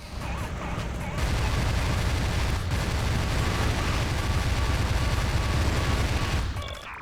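Enemy fire weapons in Descent 3 shooting through crates in the PTMC Cesium Mine: a loud, continuous roaring, crackling barrage that swells up abruptly and then cuts off near the end.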